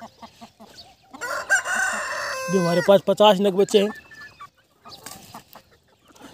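Pure desi chickens, Aseel and Kadaknath breeds, cluck and call on a poultry farm in a run of loud, close, harmonic cries, with someone talking before and after.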